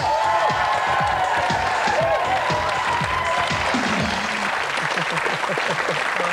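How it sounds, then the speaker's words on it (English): A studio audience at a dating game show claps and cheers for a newly matched couple, steady close applause rolling on for several seconds with whoops rising over it. "Give them a cheer."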